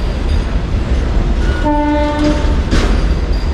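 A car-carrier train on the Konkan Railway rumbles steadily past in heavy rain, and a short horn blast sounds midway through the continuous rolling noise of the cars.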